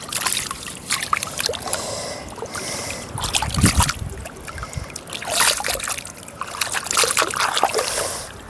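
Water is splashed and poured to wash mud off a person's skin after mud therapy, coming in uneven bursts of splashing and trickling, close by and fairly loud.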